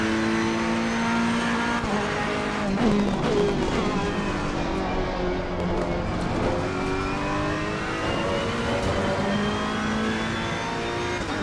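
A Ferrari race car engine in Assetto Corsa Competizione howls at high revs around Donington Park, rising and falling through gear changes with a brief tire squeal, loud and continuous.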